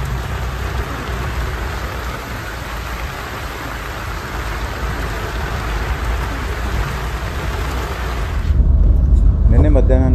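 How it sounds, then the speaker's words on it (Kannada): Heavy rain pouring down during a wildlife safari in the Kabini forest, Karnataka, a dense, loud, steady roar of drops that cuts off near the end into a brief quieter rustle. "ತುಂಬ ಜೋರಾಗಿ ಬೀಳ್ತಾ ಇದೆ ಮಳೆ."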